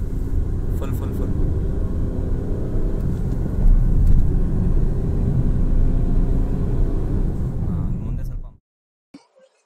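A Tata Tiago JTP is driven at full throttle, with a loud, continuous engine and road rumble that swells partway through and then cuts off abruptly near the end, followed by near silence.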